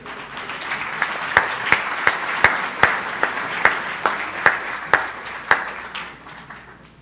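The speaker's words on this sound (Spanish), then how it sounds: "Un fuerte aplauso" Audience at a conference panel on transparency in Ibero-America gives steady, sustained applause for several seconds, a dense wash of many clapping hands with a few sharper individual claps standing out, fading slightly toward the end.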